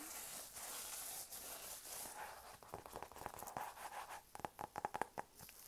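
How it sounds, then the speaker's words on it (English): Sheets of construction paper are crinkled and scratched up close, a soft hiss that turns into quick, quiet scratches and crackles. No speech. "Bit of a crinkle."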